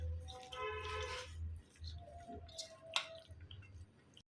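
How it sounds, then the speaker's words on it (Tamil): Chicken filling for cabbage rolls, seasoned with pepper powder and soy sauce, being mixed by hand in a bowl, giving soft wet squishing and dripping sounds with a sharper tap near the end, close and fairly quiet. "இதை நல்லா மிக்ஸ் பண்ணிக்கிட்டோம்"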